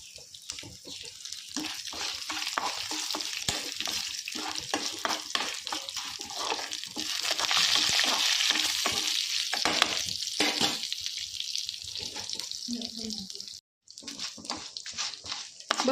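Cumin, coriander, chana dal, urad dal and curry leaves sizzle and crackle in hot oil, stirred now and then. The frying is close, loud and continuous, and it cuts out briefly just before the end.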